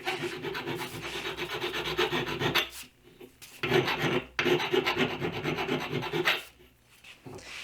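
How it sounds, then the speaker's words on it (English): A hand file rasps back and forth across the ends of an aluminum piece, in close, loud, rhythmic strokes broken by two short pauses. "Then I'm just going to file the ends a little bit on both sides, just to soften it up so you don't cut your fingers."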